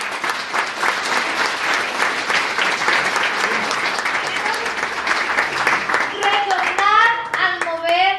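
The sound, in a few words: congregation applause in church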